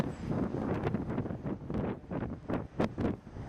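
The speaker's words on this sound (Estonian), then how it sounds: "Kerge tuulekene." Light wind blows outdoors in winter beside a house under construction, gusting unevenly in soft rushing bursts that buffet the microphone.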